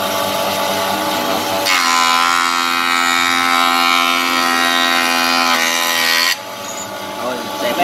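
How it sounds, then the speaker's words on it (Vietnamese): A mini Japanese domestic-market rotary wood planer whirs up to a smooth, steady high-pitched whine for several seconds, then cuts off abruptly, recorded up close without speech. "Đó, máy chạy cực êm nha mọi người."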